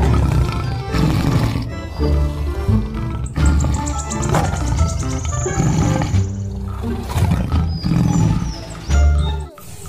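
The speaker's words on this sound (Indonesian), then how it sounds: "Wow, ada harimau juga teman-teman." A tiger roars loudly and up close, deep rumbling growls rising and falling over several seconds with a high whining tone in between.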